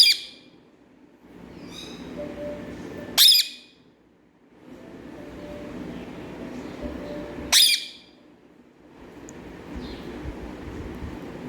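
A pet parrot gives two sharp, loud squawks several seconds apart, with softer calls and low room noise between them and no talking.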